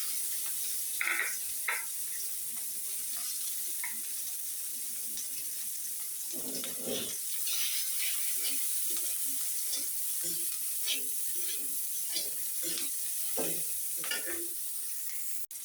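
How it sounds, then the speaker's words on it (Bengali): Garlic and onion are added to green chillies frying in a pan, giving a faint steady sizzle with scattered clinks and scraping stirs throughout. "এখন এর উপরে দিয়ে দিব রসুন আর পেঁয়াজ। এগুলোও দিয়ে আর একটু ভেজে নেব।"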